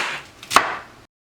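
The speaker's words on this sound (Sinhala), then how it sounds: "මෙන්න මේ විදිහට ටිකක් ලොකු කෑලි කපා ගන්නවා." A knife cuts through cabbage on a board in one sharp close chop, slicing it into large pieces, followed by a short fading rustle and then silence.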